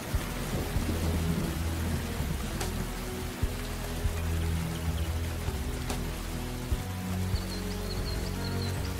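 Steady rain pours down through an Australian forest, with rolling thunder rumbling low beneath it and a couple of sharper cracks breaking through the constant wash of drops.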